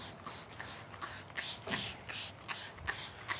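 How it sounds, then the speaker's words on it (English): Cleaner is sprayed onto a car's painted panel in quick repeated trigger pumps, a steady rhythm of short close hissing bursts with no talk. "So spray down the panel."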